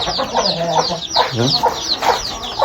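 Hens cluck repeatedly among young chicks at a poultry shed, close and lively, with overlapping bursts of clucking and higher chirps in an uneven rhythm.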